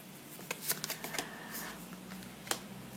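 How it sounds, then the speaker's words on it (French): Tarot cards are shuffled and drawn by hand, giving a few soft riffling and slapping bursts close by at a quiet level, then a single sharper card snap near the end. "Je me dis, tu vas tirer des cartes."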